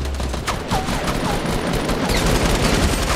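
Rapid bursts of gunfire from the video game Fortnite Battle Royale, a loud, close fusillade of overlapping shots that barely lets up, with faint whooshes between volleys.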